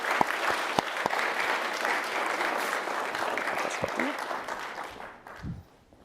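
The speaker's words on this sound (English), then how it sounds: "I think we should just give them one more big round of applause." Audience at a university graduate research presentation event giving a round of applause, dense clapping with a few sharp nearby claps, fading out toward the end.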